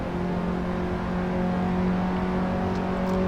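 Race car engine in Assetto Corsa holds a steady, strong drone with a clear tonal whine as the car runs along the main straight, fairly loud and continuous with no speech.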